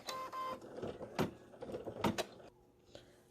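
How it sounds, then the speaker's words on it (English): A home embroidery machine stitches the tack-down pass for a fabric applique on a fascinator hat, a close mechanical whirring and rattling with a few louder clacks before it stops abruptly. "now we're going to do the tack down"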